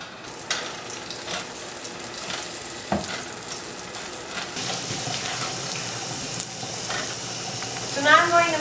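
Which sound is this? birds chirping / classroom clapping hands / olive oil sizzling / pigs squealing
olive oil sizzling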